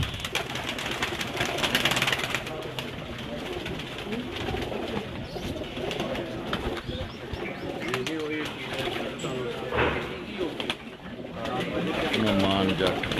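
Breeder pigeons coo repeatedly on a rooftop loft, soft rolling calls layered with wing flutters and continuous nearby conversation from several people.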